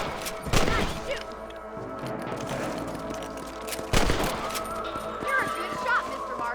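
Gunfire in the Red Dead Redemption video game while hunting rabbits, with two sharp, loud shots a few seconds apart over a background of ambient game sound and voices speaking.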